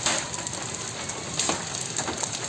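Hailstones pelting down in a heavy Jamshedpur hailstorm, producing a steady, close rattling patter with occasional louder cracks as stones hit hard surfaces.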